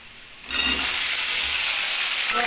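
Potatoes tipped into spices frying in a pan for a soybean dish, a quiet start then an abrupt loud burst of hissing sizzle that stays strong and close, no talk.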